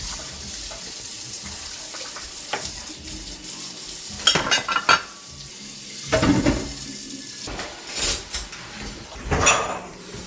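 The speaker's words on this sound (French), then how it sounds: "Je viens de finir de faire la vaisselle" Dishes are washed at a sink under a running tap, with water flowing throughout and several sharp clatters of pots and cutlery breaking through at irregular moments.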